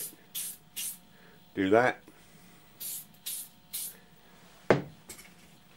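Short bursts of aerosol Electrolube switch cleaner spray onto engine points, about six quick, close hissing puffs in an uneven rhythm, with a few spoken words in between.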